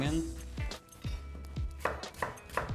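A knife chops leek on a board in a steady run of crisp, close thuds, about a dozen quick strikes, ahead of frying onion for pasta carbonara.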